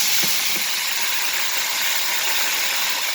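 Chicken wings frying in hot oil give a steady, loud, close hiss and sizzle with no pauses, and no one talks over it.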